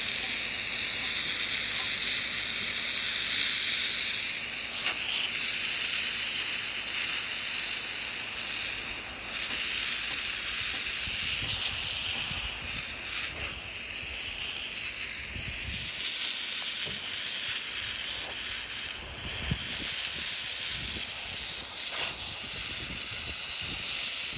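Bricks in an outdoor rock garden are washed with a steady, loud hiss of spraying water that runs unbroken throughout, with occasional soft splashes and no talking.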